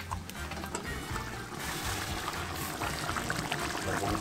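Water is poured outdoors in a steady, continuous splashing wash that is moderately quiet and carries on without a break.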